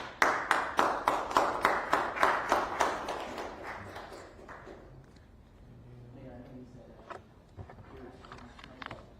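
A short burst of regular, sharp hand claps from a small group at a city officials' briefing, fading out after a few seconds into scattered claps and murmuring voices.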